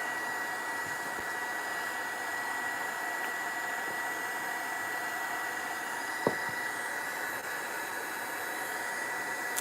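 A handheld heat tool blowing on light texture paste, a loud constant whirring hum with airy hiss running unbroken throughout, one small knock partway in, and no voices.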